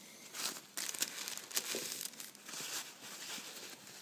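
Paper is crumpled by hand close up while preparing a Kaloud Lotus hookah head, giving bursts of crisp crinkling and rustling over a few seconds, with no talk.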